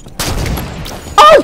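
Gunfire in the Halo 5 video game: a short burst of shots, fairly loud and close, followed by a brighter, sharper report near the end.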